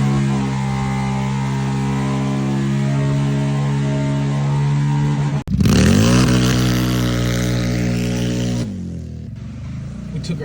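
A UTV fitted with an RNG clutch drives onto a trailer, its engine holding a loud, steady drone. The revs lurch and climb sharply partway through, then the engine drops back to a quieter hum.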